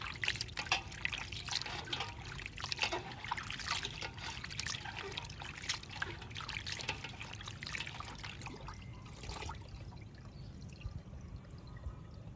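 Raw ojri (goat tripe) being washed by hand with water and lemon juice: a continuous wet trickling and sloshing of water with rubbing, fairly close and steady, easing slightly toward the end, no talking.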